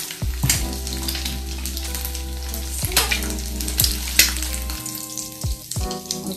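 An egg frying in a pan, a steady close sizzle with bursts of crackle and a few clicks and taps of handling over a constant low hum.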